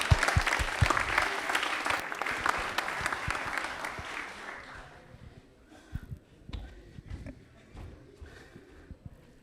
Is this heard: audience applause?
yes